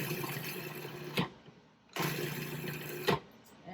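A food processor pureeing lumpy cottage cheese whirs steadily in two separate runs, each ending with a brief clatter before it winds down, fairly quiet and close.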